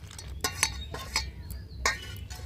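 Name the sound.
mixing potato bread pakora batter ingredients by hand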